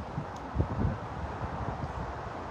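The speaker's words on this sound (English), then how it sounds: "It's just when it gets too windy up here, I think it's hard for you to hear." Wind gusts across an open rooftop, a low blustery rumble with soft buffeting on the microphone, fairly quiet and steady, no voices.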